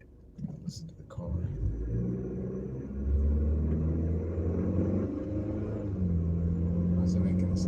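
A car making a strange noise while driving through a residential area, heard from inside as a steady low rumble with a droning tonal hum that swells slightly over time.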